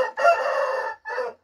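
A young rooster of an unusual colour crows once, loud and close: a long raspy call followed by a short clipped final note, with no other sound around it.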